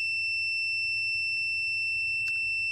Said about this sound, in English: we begin to hear the buzzer sound.